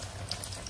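Food fries in hot oil, giving a brief, steady crackling hiss with a few small pops and no voices.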